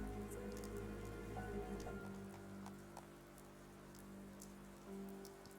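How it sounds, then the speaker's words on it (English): Steady rain patters on a surface in a rainy outdoor scene from the video game Devil Summoner: Raidou Kuzunoha vs. the Soulless Army, a continuous close hiss of drops with low ambient rumble underneath and no speech. "And it's raining."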